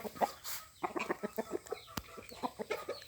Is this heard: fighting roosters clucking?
yes